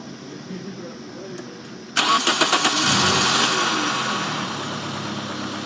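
A car's engine cranks briefly and catches, then settles into a steady idle that follows the short starter bursts, heard up close.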